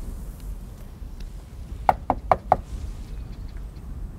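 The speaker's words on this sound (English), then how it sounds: "Should I knock?" Four sharp knocks on a wooden door at a remote house in Iceland, close and distinct, spaced unevenly over about a second, with quiet surroundings before and after.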